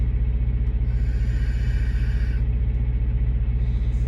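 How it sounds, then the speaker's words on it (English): A tow truck arrives on a roadside, its steady engine rumble close and continuous, with a hiss of air or brakes in the middle stretch. "Here comes the tow truck."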